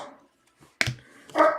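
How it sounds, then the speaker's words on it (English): A dog gives two short barks nearby, indoors, during a session of opening 2020 Bowman baseball card packs, with quiet gaps between the barks. "There's our lucky dog Bart."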